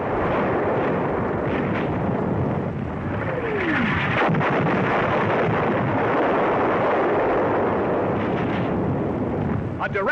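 A shell explodes on an enemy 88mm gun position at the front in North Africa in 1943, heard as a loud, continuous rumbling roar of blast and battle noise with crackling bursts throughout, the old film soundtrack dense and unbroken.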